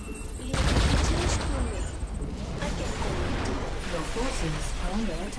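Dense, continuous rattling gunfire from StarCraft 2 co-op, with bursts overlapping into a steady roar while a voice talks over it.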